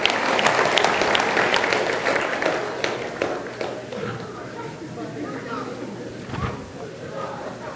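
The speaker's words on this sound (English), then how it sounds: "a round of applause there" Applause for the kids during a Christian Passover Seder gathering, a burst of clapping from a modest crowd that starts strong and gradually thins and softens, with a few scattered claps trailing near the end.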